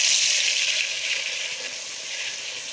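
Chopped tomatoes going into a pan of frying onions for chicken biryani, giving a bright, steady sizzle close up that eases slightly as it settles, with no talking.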